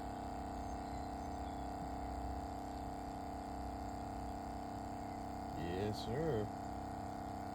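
A 12-volt pump in a waste motor oil filtration system drones with a steady low hum as it fills, while someone speaks briefly over it.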